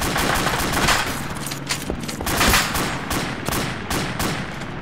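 Bursts of enemy gunfire in the video game ARMA 2, rapid repeated shots and volleys crackling loudly through a constant battle din, with no talking.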